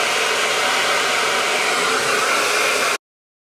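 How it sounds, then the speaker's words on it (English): A GHD hair dryer drying hair blows with a loud, steady, close whooshing roar for about three seconds, then cuts off abruptly into silence, with no speech. "that's just from drying my hair"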